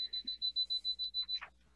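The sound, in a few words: building diagnostic meter beeping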